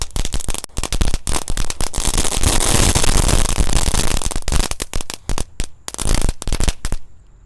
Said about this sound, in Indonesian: Di sini ada mercon telur dino pretek.